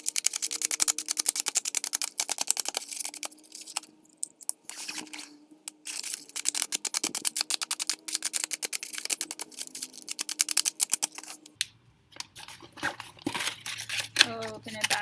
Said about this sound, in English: And then I'm going to crumple it up again